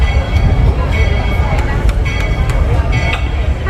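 The Walt Disney World Railroad train at Magic Kingdom rolls into Frontierland Station, with a continuous rumble of wheels and rails and faint metallic squeals. Crowd murmur sits underneath.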